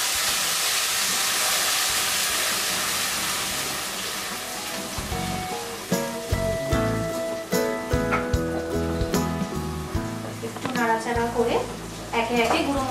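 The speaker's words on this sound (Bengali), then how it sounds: "এবার পেঁয়াজ, আদা, রসুন পেস্টটা দিয়ে দিলাম।" Onion, ginger and garlic paste hits hot ghee with a broad hiss that settles into steady frying sizzle, overlaid by clinks and scraping of a spoon stirring the pan, with a voice speaking over it.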